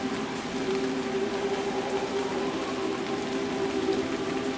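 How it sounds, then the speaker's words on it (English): Steady, even patter of spring rain falling continuously on new leaves, a soft wash of drops with no pauses or voices. "the gentle song of spring rain falling upon new leaves."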